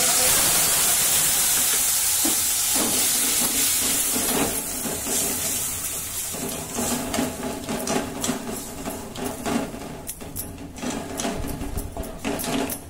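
A pinch of asafoetida drops into hot oil for chana masala, setting off a loud, hissing sizzle that starts strong and then breaks into uneven crackling pops.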